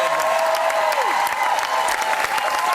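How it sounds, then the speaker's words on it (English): A TV studio audience applauds on a music quiz show, giving a full, sustained round of clapping mixed with a few cheers, moderately loud and steady, with a faint voice near the start. "would you please give a round of applause?"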